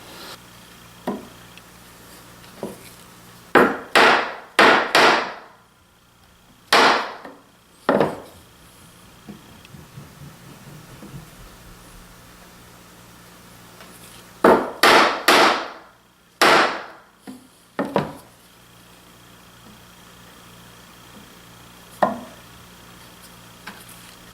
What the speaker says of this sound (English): Then I'm going to come back with a chisel and just kind of by hand widen that out a little, make a little V groove out of it.